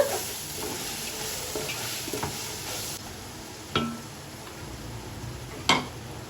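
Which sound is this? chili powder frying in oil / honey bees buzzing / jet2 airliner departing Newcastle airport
chili powder frying in oil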